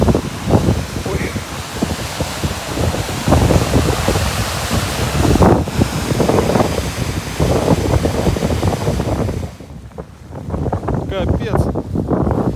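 Loud, continuous cold wind buffeting a phone microphone on a first-snow walk near the Sysert River, with a heavy low rumble that briefly eases before surging back.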